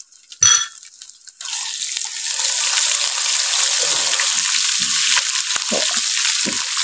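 Crushed garlic and ginger hit a pan with cumin for masoor daal. After a brief clatter, a loud, steady sizzle rises and holds close-up, with faint stirring taps underneath.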